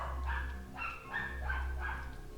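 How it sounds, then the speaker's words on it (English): A dog barks repeatedly in the background of a home setting, a run of four or five sharp, yappy barks at a steady pace, moderately loud and with no talk over them. "Sorry for the dog noise"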